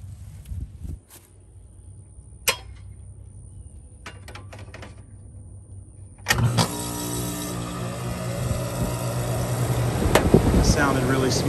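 A steady mechanical hum with a faint whine runs quietly, then an air conditioner condenser unit kicks on partway through and keeps running with a broad, buzzing drone.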